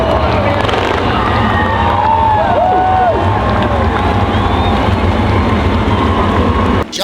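Spectators at the Super Dirt Cup finale at Skagit Speedway cheer and roar from the grandstands, a loud sustained crowd swell layered with engine noise and an announcer's voice.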